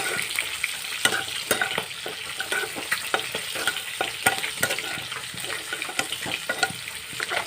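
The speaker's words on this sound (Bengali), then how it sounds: "পেঁয়াজটা আরেকটু ভাজা করব" Onions frying on a low flame in a pan while kalmi greens are being cooked, a steady close sizzle with repeated sharp scraping and stirring clicks throughout.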